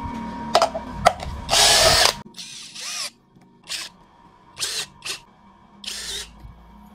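A DongCheng DCJZ2040i13 cordless impact drill whirs in short, loud bursts of a second or less, the mechanical clutch ratcheting between runs, with quiet pauses between each burst.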